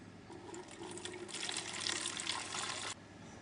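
Homemade wine poured back into a washed container, a soft gurgling splash of liquid rising to a steady trickle and stopping abruptly, faint and close with no talking.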